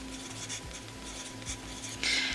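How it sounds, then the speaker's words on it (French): Handwriting on a surface, a close, steady scratching scrawl of pen strokes over a low background hum, growing a bit louder at the end. "Donc, je vais écrire comme ça, ongles solides."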